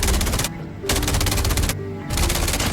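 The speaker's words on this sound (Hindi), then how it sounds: "मैंने मशीन गन से गोलियां फायर करना है तो शुरू कर दिया" Rapid, loud bursts of machine-gun fire aimed at a helicopter in the Call of Duty Mobile battle royale, in two long volleys separated by short gaps.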